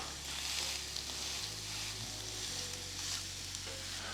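Sausages sizzle steadily on a hot Ninja Foodi grill plate, a close, continuous frying hiss with a low hum underneath.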